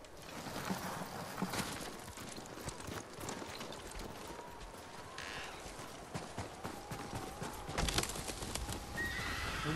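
Horses in Ghost of Tsushima neigh and whinny while hooves clip-clop steadily at a walking pace, a continuous, fairly faint outdoor scene with rustling movement throughout.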